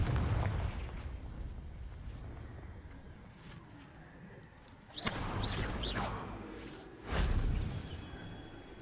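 Blasting spell bursts in the Hogwarts Legacy video game: two loud booming impacts with whooshing crackle, the first near the five-second mark and the second about two seconds later, over a steady low rumbling game ambience.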